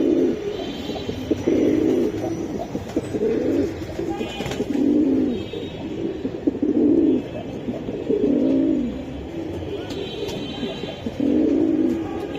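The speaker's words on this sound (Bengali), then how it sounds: "নর্মালি দুইটাই দমবাজু কালো সিলভার কবুতর" Black-silver Giribaz pigeons coo close by in repeated soft, throaty phrases, a rhythmic pattern of bursts separated by short pauses.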